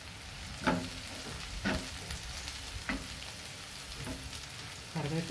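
Green chilies and curry leaves frying in hot oil: a steady soft sizzle runs throughout, broken by a few louder crackling spatters and stirring scrapes at irregular intervals, close and without talking.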